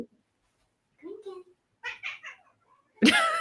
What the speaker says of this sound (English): She's messing with the cat.